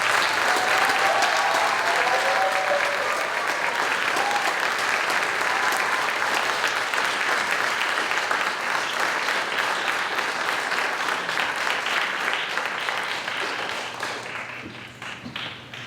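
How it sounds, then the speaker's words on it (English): Sustained, dense applause from an audience at a youth police academy graduation greets the graduating student officers, steady and loud for most of the span before tapering off near the end. "Let's hear a round of applause for all our student officers."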